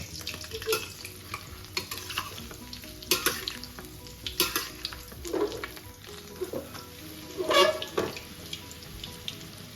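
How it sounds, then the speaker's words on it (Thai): A Thai omelette fries in hot oil, giving a bubbling sizzle that comes in uneven bursts with occasional louder spatters and scraping, close by and with no talking. "ถ้าทอดน้ำมันร้อนอะ ถ้าน้ำมันร้อนไข่มันจะฟูดีนะ"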